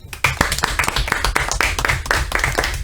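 A small group claps steadily and briskly, close by, with no talking.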